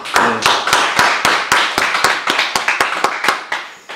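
A church congregation at a Wednesday worship service claps together, a dense run of sharp hand claps in uneven rhythm, loud and close, with no talking.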